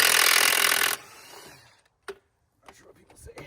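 An impact wrench rattles hard against lug nuts in one loud burst of about a second, then cuts out, leaving a sharp knock and scattered metallic clanks.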